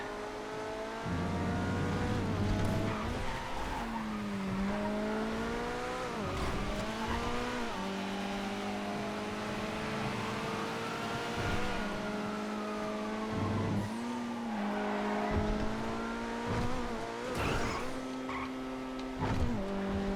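Race cars in the GTA FiveM racing game accelerate hard with a steady loud engine drone, gears shifting up and down with rising and falling pitch, occasional tire squeals cutting in throughout.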